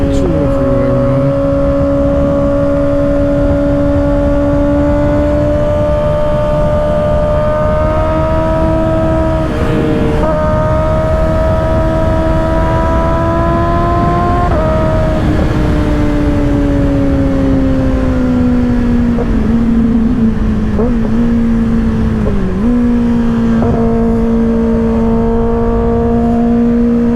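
A 2024 Kawasaki ZX-6R with an M4 exhaust pulls hard on a freeway, its engine tone climbing steadily through the gears with brief dips at the shifts, loud and close throughout, with a voice talking over it.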